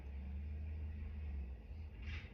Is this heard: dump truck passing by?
yes